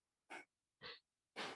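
Three separate breaths during a yoga session, each a short airy rush lasting roughly a quarter second, spaced about half a second apart. The breaths are close and soft against near silence.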